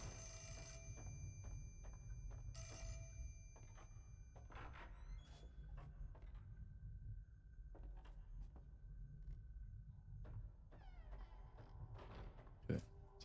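Telephone ringing inside the Fatal Frame horror video game, its repeated electronic bell bursts sounding against a low, steady ambient drone, with sparse clicks and a brief thud near the end.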